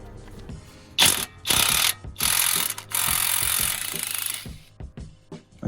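A socket ratchet works on a corroded nut on the anti-roll bar of an Alfa Romeo Giulietta, with close, loud bursts of rapid clicking in several strokes separated by short pauses and a few lighter knocks.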